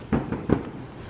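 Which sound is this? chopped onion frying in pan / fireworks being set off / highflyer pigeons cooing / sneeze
fireworks being set off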